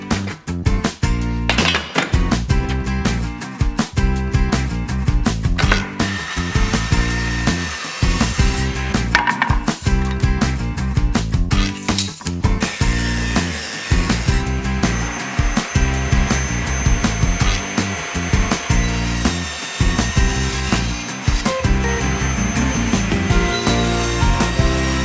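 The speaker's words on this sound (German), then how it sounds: "Dann brauche ich noch ein paar Brettle, die schneide ich mir jetzt zu." Wooden boards cut to size with a saw while building a mechanical marble run for children, a steady run of cutting strokes broken by short pauses, loud and close, with no talk.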